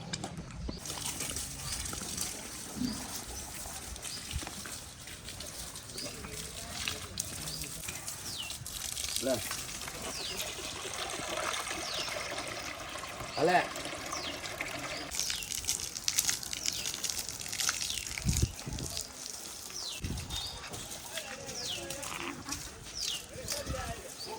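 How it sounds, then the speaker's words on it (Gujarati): Water gushes from an opened valve to bathe a bull in a village cattle yard, a steady broadband rush that fills the whole clip alongside voices and some animal sounds. "ચાલો તો ફટાફટ વાલ ચાલુ કરી દે પાણી બાણી પીવડાવીએ નવડાવીએ"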